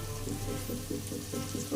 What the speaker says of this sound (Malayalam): സവാള നല്ലതുപോലെ വഴന്ന് വരട്ടെ.